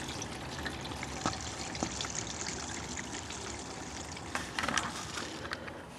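Engine oil drains from the oil pan of a second-generation Toyota Tacoma with a 4.0 L 1GR-FE V6, a close steady trickle and splash into a catch pan with a few louder spatters.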